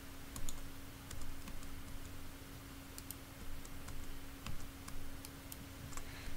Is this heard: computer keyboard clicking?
yes